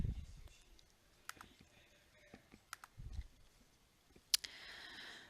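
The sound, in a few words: computer mouse clicking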